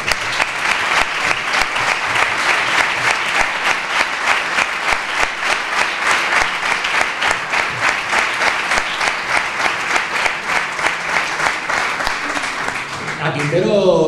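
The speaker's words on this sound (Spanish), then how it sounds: "para Jesús Quintero pido por favor un aplauso." Loud, sustained audience applause at a book presentation in a Spanish cultural centre, many hands clapping in a dense steady rhythm for over ten seconds, fading with a voice entering at the end.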